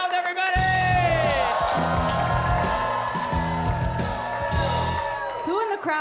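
An audience at a comedy show cheers and whoops for comedian Tess Vergult, with loud sustained crowd noise, yells and an announcer's voice shouting over it, the cheering carrying on to the end.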